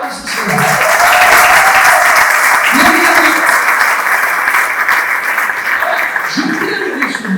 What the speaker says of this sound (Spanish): Denle un aplauso de alabanza al Señor.